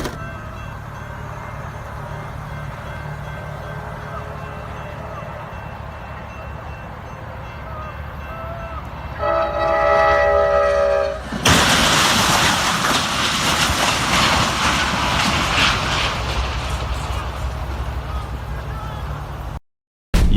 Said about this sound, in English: A train slams into a semi-truck loaded with cars.